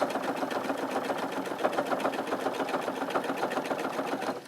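A sewing machine stitches a folded fabric strip for a jelly roll rug, its rapid even needle chatter running steadily and close for the whole stretch.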